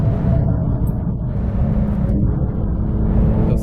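A 700 hp Porsche 911 GT2 RS MR is driven at full throttle on the Nordschleife, producing a loud, close, unbroken engine roar with a deep, steady rumble and no voices.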